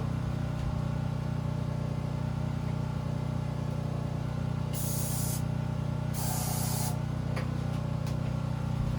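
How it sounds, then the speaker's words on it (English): Flammable brake cleaner aerosol sprayed into a turbo engine, two distinct hissing bursts of a few seconds each over a steady low engine-bay hum, plus a quick extra puff, close and fairly loud. "I'm gonna hit it with some brake clean"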